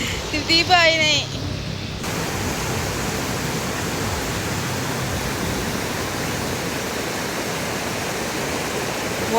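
A river in Sabah rushes loudly as its water suddenly rises, a dense steady roar of flowing water that fills the whole stretch, with a brief chirping sound at the start.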